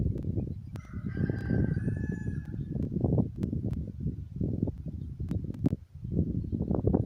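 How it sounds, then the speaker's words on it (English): Rooster crowing in a backyard flock, several drawn-out cock-a-doodle-doo calls rising over a busy outdoor background of clucking and rustle, fairly close and clear. "There's my rooster"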